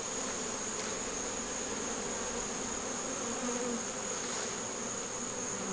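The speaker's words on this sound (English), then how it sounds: "There's tons of bees on the walls over here." A steady, dense buzzing of many honeybees in a hive, bees crowding the walls, fills the clip, close and continuous, with no talking.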